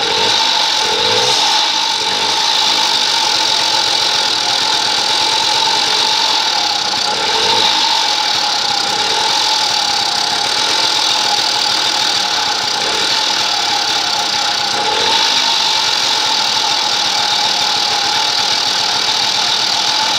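A pull-start motorized bicycle engine runs steadily with a loud, buzzy, rattling two-stroke drone, its pitch holding fairly constant with slight surges, close by and alone.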